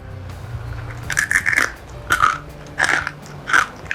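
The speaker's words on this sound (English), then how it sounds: "can you hear the crunch?" Crunchy bites of plant-based food, four or five close, crisp crunches with chewing in between, spaced about every half second and heard alone.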